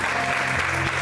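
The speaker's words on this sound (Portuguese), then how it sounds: "Você pode aplaudir o Senhor?" A church congregation applauds during a service, a brief, dense wash of clapping that fills the room with a steady hum beneath it.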